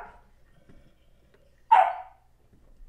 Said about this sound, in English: God dang dog, be quiet.